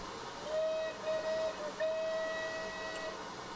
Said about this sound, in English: So we'll do a little toot of the whistle.